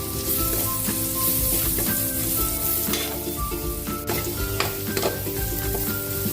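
Garlic hits a hot pan and sizzles loudly and steadily, with a few stirring scrapes and clinks on top, close up.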